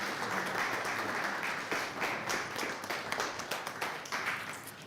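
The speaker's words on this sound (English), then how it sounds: "So if we give Chantel a round of applause as she comes." Audience applause for a guest speaker at a business talk event, steady dense clapping from a crowd filling the whole stretch at moderate level.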